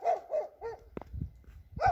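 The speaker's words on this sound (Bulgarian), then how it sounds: "И се чуват, разбира се, кучетата как лаят." Dogs bark in a snowy mountain village in the Balkans, several sharp woofs in quick succession, then a pause with faint rustling and another bark, moderately near with no talk.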